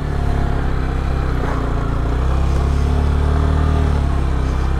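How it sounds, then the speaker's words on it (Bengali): A motorcycle engine strains in deep sand on a Cox's Bazar beach, a loud, steady, close drone held without letup. "এখানে প্রচুর বালুতে বাইক চলে না।"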